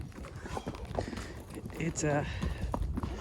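A horse's hooves clop slowly and carefully across slanted slick rock on a rugged trail ride, irregular close steps mixed with a rider talking.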